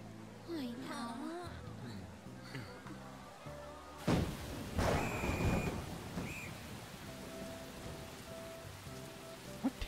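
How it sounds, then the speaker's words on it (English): Steady rain hisses down in the video game Persona 5 while a rumble of thunder rolls in midway, with music and game sounds carrying on beneath it. "There comes the rain."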